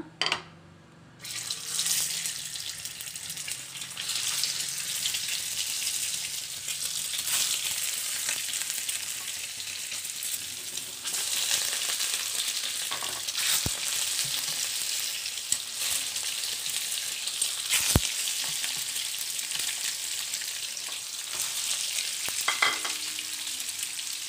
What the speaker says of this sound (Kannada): ಇವಾಗ ಫಸ್ಟು ಮೊಟ್ಟೆನ ಫ್ರೈ ಮಾಡಿ ತಗೊಳ್ಳೋಣ